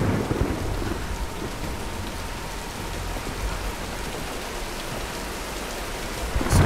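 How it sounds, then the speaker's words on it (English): Steady rain and rumbling thunder from a storm in the video game Tomb Raider, a dense continuous downpour with low thunder rolls throughout and a slight swell at the end. "Nah, let's wait out the storm."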